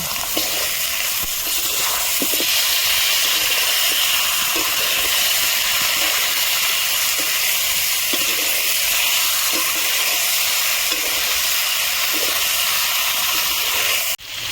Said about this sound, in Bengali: চিকেনটা আমি ভালো করে ভেজে নেব।